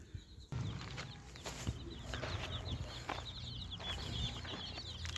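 Chickens clucking and chirping close by, a busy farmyard flock with small chicks peeping over a steady low hum.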